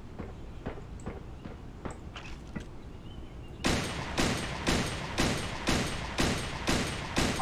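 Gunfire from the shooter game Creative Destruction: scattered distant shots at first, then loud, close bursts that repeat in a steady rhythm about twice a second.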